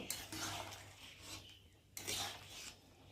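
A spoon stirs fish pieces into a simmering fish curry in a pot with potol and jhinge, giving soft rasping scrapes in two bursts with a short pause between, close and fairly quiet, with no talking.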